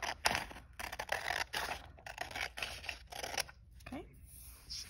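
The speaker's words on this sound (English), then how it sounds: "I'm going to use my scissors to carefully cut along the edge of my fold." Scissors snipping along a folded edge of paper for a paper snowflake, a run of close, crisp cuts and scrapes with a voice talking over much of it.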